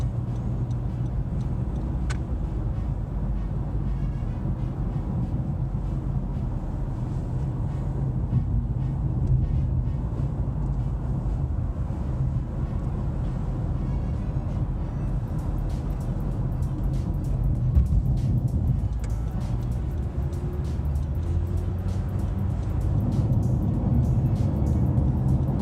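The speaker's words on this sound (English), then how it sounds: "So we're merging onto the highway here." A 2017 Honda Civic Coupe cruises and merges onto a highway, with steady road and engine rumble from inside the cabin, a faint ticking, and a brief sharp click near the start.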